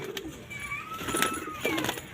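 Surkha breed pigeons coo softly nearby, a few low rolling calls among faint chirps and background rustle.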